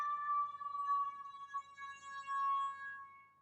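A horn sound effect from a music pad app plays as a steady, wavering tone, thin and faint as if heard through a device speaker, sustained for a few seconds with no voices.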